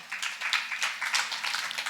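An audience claps together at a spiritual discourse, a fairly steady wash of hand claps with no voice on top, moderately loud and continuing throughout.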